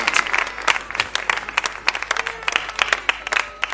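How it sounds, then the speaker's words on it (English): A church audience breaks into lively applause for a reverend being welcomed on stage, many hands clapping fast and loud in an uneven patter close by, without speech. "Come on, put your hands together for Reverend Dr. John Abedokwashi. Come on, keep on clapping."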